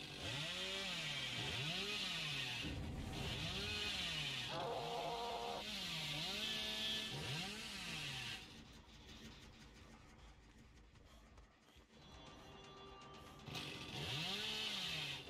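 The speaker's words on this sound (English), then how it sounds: "We've had so many really nice chainsaws." Revving chainsaw of the Hillbilly killer in Dead by Daylight, loud and close, its pitch rising and falling in repeated surges, then briefly quieter with mixed game noise before one more rev at the end.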